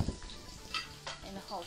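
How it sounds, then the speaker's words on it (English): Sliced garlic frying in hot oil gives a soft, steady sizzle with a few light clinks and stirring scrapes of a pan, fairly quiet and close. "So I'm going to fry the sliced half first"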